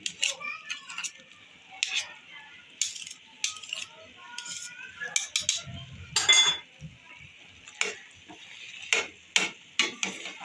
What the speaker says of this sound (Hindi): अब इसको हल्की आंच पे इस तरीके से भूनेंगे।